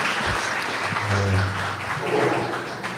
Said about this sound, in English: Let's give Sidney a round of applause.